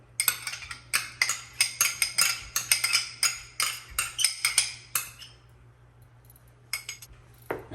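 A metal spoon clinks quickly and rhythmically against a pan while sour cream is stirred into heavy cream for beef stroganoff, a steady run of sharp taps that stops midway, then a few last knocks.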